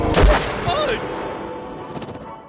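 A cannon fires in the video game Circus Electrique, one sharp booming blast at the start that decays into a rumbling tail, with a voice talking alongside.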